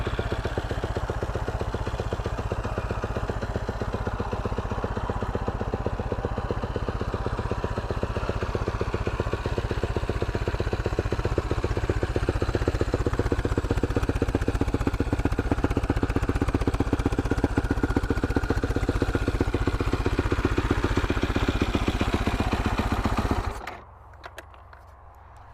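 Suzuki LTR474 big-bore ATV engine with head work, Yoshimura cams and exhaust, running at a steady rough idle with a loud, close, chattering pulse that cuts off abruptly near the end.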